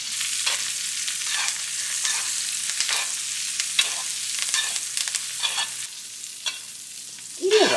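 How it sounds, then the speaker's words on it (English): Steak sizzles in a hot pan while being butter-basted with garlic, rosemary and thyme, a continuous crackling fry broken by repeated rhythmic spoon splashes and a sharp clatter at the end. "And then go ahead and start butter basting."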